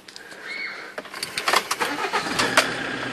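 A Fiat Ducato camper van engine cranks and fires up close by, a short whirring crank followed by a rapid pulsing catch as it starts on the first try.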